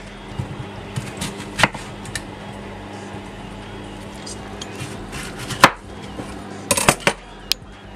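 A knife chops thick-cut sirloin steak into cubes on a board, with several sharp, irregular knocks over a low steady hum, clustered at first and again near the end.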